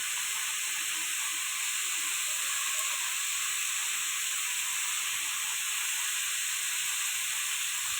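A potato and pointed gourd curry simmering in water in a pot, giving a steady, even hissing bubble that runs unbroken throughout at moderate volume.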